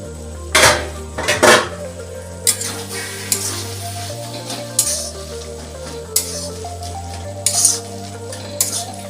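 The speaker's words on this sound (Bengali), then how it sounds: "এবার আমি চাপাটা খুলবো।" A metal lid lifts off a pot of mochar ghonto, banana-flower curry with prawns, in two quick clinks, then a soft sizzle and stirring over steady background music.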